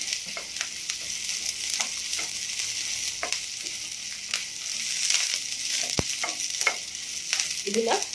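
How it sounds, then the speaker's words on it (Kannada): Brinjal, tomato and chillies fry in a pan for chutney, giving a steady close sizzle with scattered stirring scrapes and a few sharp clicks, no voice present. "ಇದನ್ನ ನೀಟಾಗಿ ಹೀಗೆ ಫ್ರೈ ಮಾಡ್ಕೋಬೇಕು"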